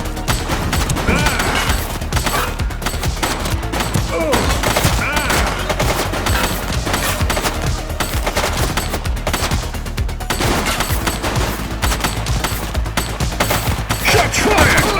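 Dense, loud video-game gunfire in The Precinct, with rapid automatic bursts and scattered single shots crackling continuously over a busy mix of game sound, and no pause throughout.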